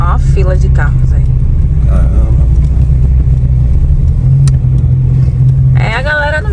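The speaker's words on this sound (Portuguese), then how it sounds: "Ó a fila de carros aí." A queue of cars sits in street traffic in Portugal, with a close, loud engine rumble running throughout while people talk over it.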